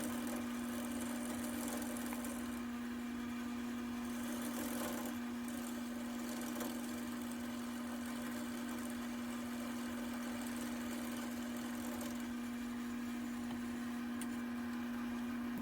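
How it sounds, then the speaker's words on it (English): A wood lathe spins a table leg while a roughing gouge cuts it, giving a steady, faint mechanical hum with a constant tonal whine and a grainy scraping texture over it, with no talk. "I got that roughing gouge back out and cut some more"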